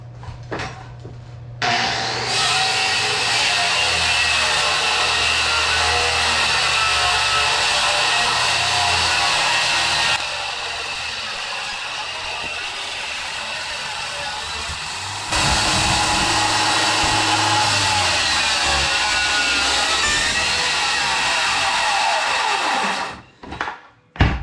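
Corded 20 amp skill saw cutting kitchen flooring, a loud, harsh whining buzz through two long cuts with a short dip between, spinning down at the end after a brief lead-in hum.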